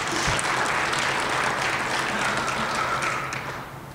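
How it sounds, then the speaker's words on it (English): A crowd applauds at a university hall of fame induction ceremony, dense steady clapping throughout that thins and fades slightly near the end, with no one speaking over it. "so give yourselves a round of applause."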